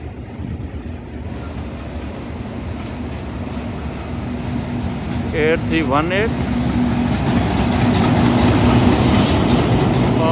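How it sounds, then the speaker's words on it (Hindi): Freight train led by a locomotive rolling through Badamibagh station, a steady loud rumble of wagons building over the clip, with a brief wheel squeal or horn-like warble in the middle and faint voices beneath. "फ्रेट ट्रेन को लीड कर रहा है जी PH20।"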